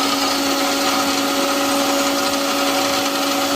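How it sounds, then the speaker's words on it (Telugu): A kitchen mixer grinder blends de-seeded jamun fruit pulp in its jar for homemade jam, giving a steady, loud motor whine that runs continuously without pause. "మిక్సీ పెడదాం మెత్తగా"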